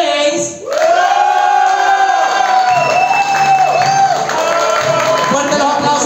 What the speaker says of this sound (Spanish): Fuerte el aplauso para Cote Santander.